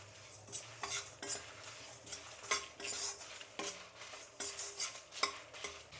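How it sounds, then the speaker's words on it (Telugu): Sambar powder spices and asafoetida dry-roast in a pan while a metal spoon stirs and scrapes, giving irregular clinks and scrapes over a faint background, close and quiet with no talk. "ఇందులో కొద్దిగా ఇంగువ, ఇప్పుడు దీన్ని బాగా వేయించుకుందాం."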